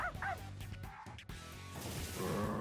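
Dog in Persona 3 Reload giving a few quick yips and barks in a turn-based battle, over game music and effects.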